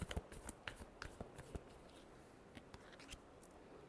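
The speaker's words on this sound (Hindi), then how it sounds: "Last shuffle." Tarot cards shuffled by hand in quick, light riffling bursts of papery flicks, with a few sharper snaps near the start, close and fairly quiet with no talking.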